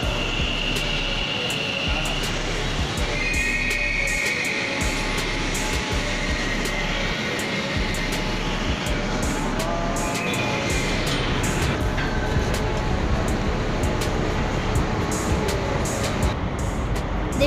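Kolkata East-West Metro train pulling into a station and running, a steady loud rumble with high whining tones that rise and fade, no voices.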